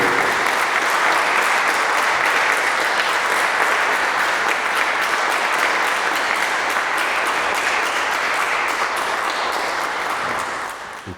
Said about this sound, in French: j'aimerais qu'on acclame ces personnes qui sont mortes pour eux